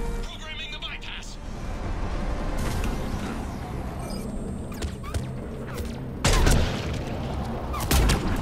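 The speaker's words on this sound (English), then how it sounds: "they're shooting me through the fucking the wall" Enemy gunfire in Mass Effect 3 on Tuchanka, scattered shots and impacts, with a couple of sharper louder bursts late on, while someone talks over it.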